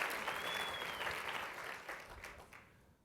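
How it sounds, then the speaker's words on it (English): Audience applause at a dinner event honoring the servers, a dense wash of clapping that starts loud and gradually fades away over a few seconds. "we'll give another round of applause to the good servers and people who've been working hard all night for us"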